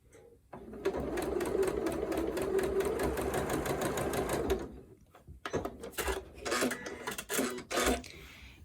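A sewing machine stitches a quarter-circle curved seam, running in a steady, fast mechanical whir for about four seconds, then stopping, followed by scattered clicks and handling noises of fabric and machine parts.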